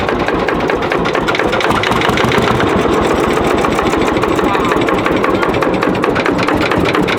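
Lanz Bulldog two-stroke tractor with a 10-litre single cylinder idling close by, a steady loud rapid chugging that runs unbroken throughout.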